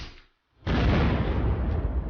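In the video game Unturned, after a brief silence, a C4 explosive blast erupts and settles into a sustained, roaring rumble.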